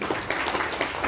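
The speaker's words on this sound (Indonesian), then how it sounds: "Tepuk tangan dong." An audience at a community volunteer inauguration claps briefly, a short spatter of scattered hands, moderately quiet and uneven over about a second.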